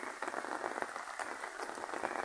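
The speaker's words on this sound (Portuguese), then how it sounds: "Ô, chuvinha boa." Light rain falls in a steady, soft patter of fine drops on a surface, evenly textured and fairly quiet, with no voices.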